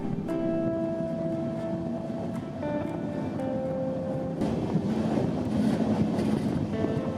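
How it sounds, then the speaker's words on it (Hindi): The Secunderabad Duronto Express runs at high speed, with a steady rumbling roar of wheels on track, a wash of rushing wind and a few faint tonal whines, recorded close and continuous. "और अब आप इंजॉय कीजिए ट्रेन के कुछ हाई स्पीड एक्शन"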